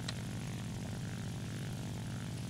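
An Il-2M propeller aircraft flies in War Thunder, its engine drone steady and continuous, a low thrumming hum with no voices.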